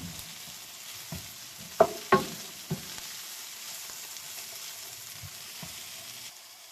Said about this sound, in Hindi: अब इसके सौटे होने के बाद मैं ये मटर डालूंगी